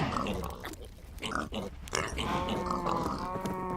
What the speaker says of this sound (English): Are you all happy piggies? They're all happy piggies.